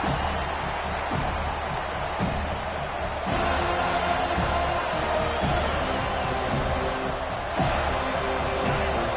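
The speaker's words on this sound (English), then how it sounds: "They challenge this crowd to bring the energy, and I'd say they're doing that." A football stadium crowd roars steadily throughout a college game, a loud, continuous wash of cheering with occasional thumps rising through it.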